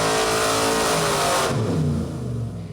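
A 5.3L LS V8 on an engine dyno, fitted with a single-plane carbureted intake manifold and a dyno carburetor, revs hard through a pull. The loud engine roar climbs steadily, then its pitch drops and fades as the run winds down.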